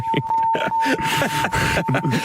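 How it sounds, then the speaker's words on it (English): A steady high-pitched beep tone runs continuously beneath lively overlapping talk. "you definitely made that beep longer than you needed to"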